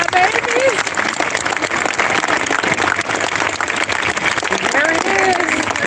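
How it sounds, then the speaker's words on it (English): A graduation crowd applauds continuously and loudly for honor society students, a dense wash of many hands clapping throughout, with voices and cheers mixed in. "Let's give them a round of applause."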